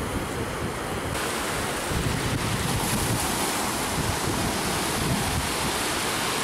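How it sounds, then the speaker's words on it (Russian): Rough sea waves break continuously on a beach in Haifa, a loud broad roar of surf mixed with heavy wind buffeting the microphone, with no voices. "Сегодня сильное волнение на море."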